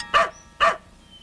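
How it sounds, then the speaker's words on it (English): A watchdog barks twice, loud and close, with two sharp woofs about half a second apart and brief quiet between them. "Its bark is worse than its bite."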